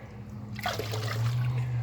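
Water is poured into a plant pot filled with soil while potting squash seedlings, a short close trickle and splash that starts abruptly and continues steadily to the end.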